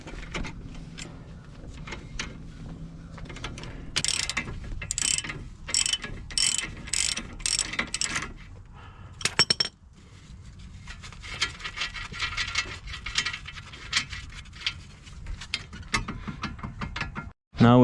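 A ratchet wrench clicks rapidly as it spins a strut nut on a 2007 Toyota Sienna during a strut change, with bursts of fast ratcheting broken by short pauses, close and moderately loud.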